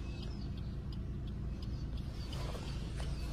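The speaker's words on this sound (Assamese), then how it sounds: "চাওক চাউণ্ড ইঞ্জিনৰ" Idling petrol car engine, very quiet and smooth, a constant low hum close by with a few faint clicks over the top and no talk.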